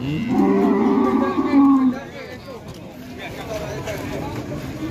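A large Limousin bull at a cattle market lets out one long, loud, close moo lasting nearly two seconds, followed by murmuring voices and crowd noise of the busy market.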